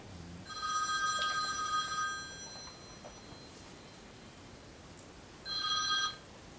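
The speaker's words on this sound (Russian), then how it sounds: "О, тебе звонят." A telephone rings in a village house, two bursts of ringing near and clear, the first about two seconds long and a shorter second one after a quiet gap.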